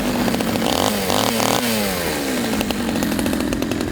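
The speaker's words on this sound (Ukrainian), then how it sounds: "Роздобувши бензопилу, не чекаємо на допомогу. Спробуємо розчистити дорогу самостійно." A gasoline chainsaw revs loudly and cuts through a fallen tree blocking a road, its engine pitch rising and dropping as the chain bites into the wood, close and continuous with no talking.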